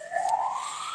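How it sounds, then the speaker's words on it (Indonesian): An ambulance siren wails outside, a steady rising tone with harmonics, moderately loud and continuous, heard alone without talk over it. "maaf, ada suara ambulan."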